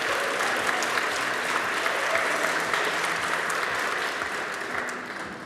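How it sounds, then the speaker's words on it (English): Enthusiastic audience applause fills an awards ceremony at an innovation summit, a dense, steady wash of clapping from a large crowd that holds strong for several seconds before easing slightly at the end. "Can we give them another big enthusiastic round of applause?"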